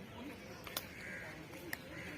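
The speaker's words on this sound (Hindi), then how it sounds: "चिड़ियों की आवाज़ें सुन के कितना अच्छा लगता है" Birds calling in a green park, a few sharp crow-like caws cutting through soft steady outdoor ambience, moderately distant.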